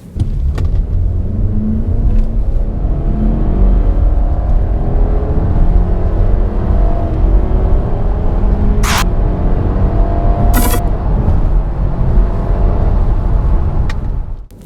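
AWD compact car, a 2019 Mazda 3 GT or Subaru Impreza, accelerating hard from 0 to 100 km/h: a steady, loud engine drone and road rumble heard from inside, with a couple of brief higher whines.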